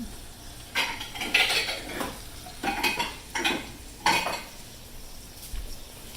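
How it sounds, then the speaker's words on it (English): Eggs cracked against a bowl while cooking a big Southern country breakfast, with a few sharp taps and clinks of dishes and utensils spaced irregularly, close by and moderately loud, in a kitchen. "I could crack my eggs real quick while I'm, and then start them"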